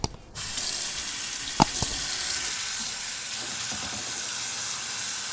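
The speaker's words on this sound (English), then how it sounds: "we need to wash all the salt out of the moss" Soaked Irish moss being washed under a running kitchen tap, a steady close rush of water with a couple of brief clinks partway through.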